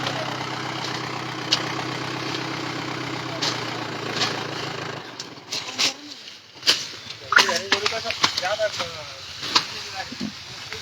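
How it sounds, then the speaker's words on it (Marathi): A tractor engine idles steadily and close by for about five seconds, then cuts out, leaving quieter scattered knocks, rustling and faint bird sounds. "हे एक ट्रॅक्टर MS-20 FP 9891. हे दुसरं ट्रॅक्टर MS-20 GR 2716."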